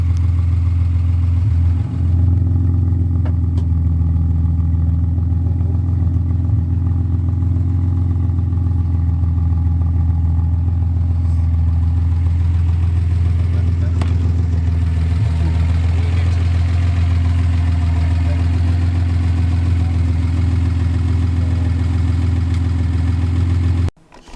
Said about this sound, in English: we just finished up putting the new muffler and a new resonator on the 280Z to quiet it down